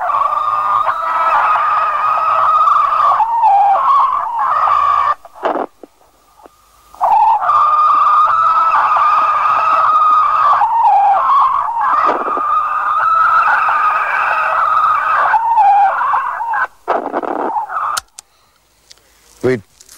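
An alleged Sasquatch creature calls in long, loud, wavering honk-like howls, broken by a few short pauses, with no talking.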